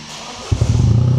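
A Toyota GR Yaris with no exhaust fitted barks into life and revs. A sharp onset is followed by a loud, raw, close rasp that holds steady for a moment.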